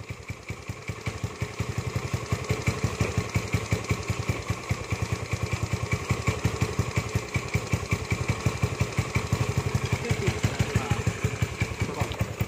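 A push-started motorcycle engine running steadily, its rapid, even exhaust pulses chugging loudly and close throughout with a slightly clattery edge.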